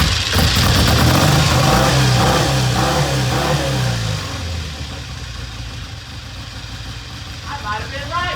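Triumph 350cc 3TA motorcycle engine running at half throttle during a cold-start test, a loud steady throb that fades after about five seconds, then settles to a quieter idle, with people talking nearby.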